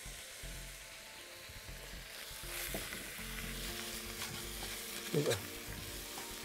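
Pigeons cook in caramel in a pan with a continuous soft sizzle and a few stirring clinks, and a voice briefly speaks over the frying.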